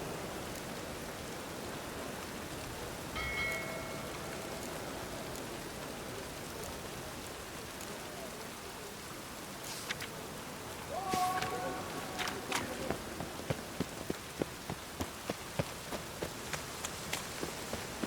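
Rain in The Witcher 3, a steady broad hiss of falling water throughout, with rhythmic footstep-like thuds joining in the second half and a few brief tonal blips.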